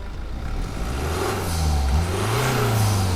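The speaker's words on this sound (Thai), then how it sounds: "เหยียบปุ๊บ เสียงดูดอากาศมันมาแบบว่า เร้าอารมณ์" A BMW 320d G20 diesel fitted with a GruppeM air intake revs up from inside the cabin, with engine pitch climbing and swelling in two strong pushes, loud and close with a rushing intake sound.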